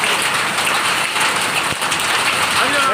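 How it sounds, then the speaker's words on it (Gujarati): Heavy rain mixed with hail in a village downpour, a loud dense patter and hiss drumming on surfaces throughout, with one sharper impact partway through. "કરા સાથે વરસાદ પડે ભાઈ."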